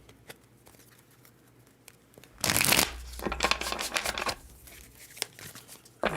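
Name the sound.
shuffling tarot cards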